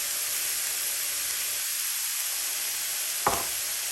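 Seasoned ground meat with salt, black pepper, garlic powder, onion powder and Worcestershire sauce cooks in a pan, giving a steady, fairly loud broad hiss and sizzle with one sharp clink of a utensil near the end.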